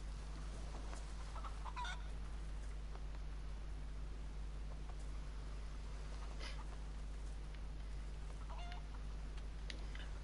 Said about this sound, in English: haven't you seen a man walk his chicken along the beach before?